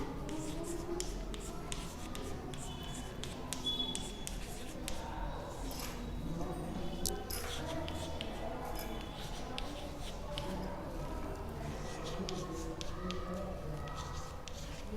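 A pen or pencil scratches steadily across paper while multiples of 3 are written out by hand in a classroom maths lesson, faint and continuous.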